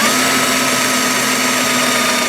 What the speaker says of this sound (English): I'm just going to drill a hole where the screw goes into the metal.